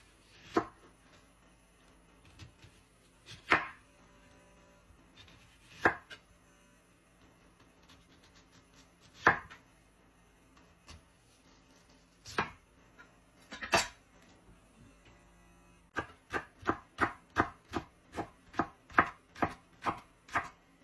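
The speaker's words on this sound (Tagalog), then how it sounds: "hiwain lang natin itong sibuyas. Ng pa onion rings pabilog." A knife slicing onion into rings on a cutting board: scattered single chops early on, then a quick steady run of about ten close, crisp cuts near the end, with no voices.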